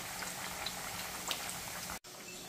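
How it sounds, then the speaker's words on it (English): Smashed green plantains frying in hot oil, a steady, fine crackling sizzle that holds close and quiet, broken by a brief dropout of silence near the end. "what you're gonna do is let them fry"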